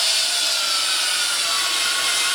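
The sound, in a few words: drilling holes in wood for clothes valet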